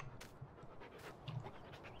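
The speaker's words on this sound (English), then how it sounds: "I hear a dog." A dog pants softly in quick, breathy rhythm somewhere nearby in the Farming Simulator 19 video game, faint and alone against a low ambient background.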